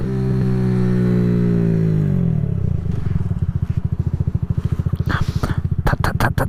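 A small motorcycle, a Honda Grom or Kawasaki Z125, rides at speed in fourth gear: a loud steady engine drone that shifts into a rough, pulsing clatter, with wind buffeting and scraping knocks near the end.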